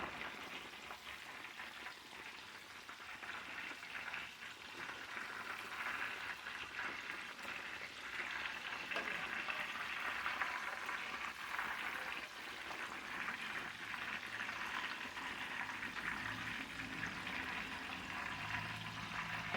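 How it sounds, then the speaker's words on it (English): Fish fillets sizzle and crackle steadily in hot oil while country-style frying, a soft continuous frying hiss with no one speaking. "You want your fish to immediately start frying."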